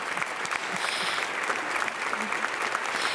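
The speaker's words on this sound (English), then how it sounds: "I feel like I need them to clap for you." Audience applause for a panel discussion, steady and dense throughout, a full room clapping at close-to-moderate distance with no talk over it.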